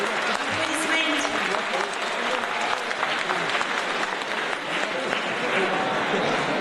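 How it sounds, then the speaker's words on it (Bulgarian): Dense, steady audience applause fills a hall at a school talent show after a folk choir performance, a continuous wash of many hands clapping with no pauses. "Аплодисменти!"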